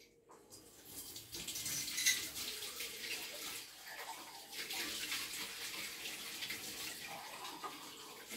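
Tap water runs steadily into a basin or container for several seconds, a continuous close splashing rush with no talk over it.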